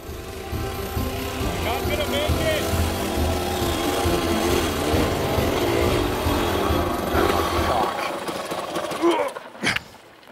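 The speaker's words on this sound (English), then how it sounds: "She's bogging down every time I open it up." Old two-stroke motorcycle engine running lean and bogging down under throttle, a loud continuous drone that sputters and drops away near the end, with talk over it.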